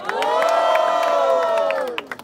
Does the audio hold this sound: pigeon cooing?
no